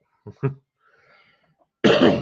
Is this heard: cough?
yes